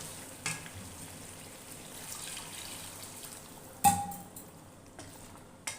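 Water poured into a pan of fried curry masala for aloo gosht, a soft sizzling and bubbling bed with a few sharp splashy bursts and clinks, fairly quiet and close, no talking.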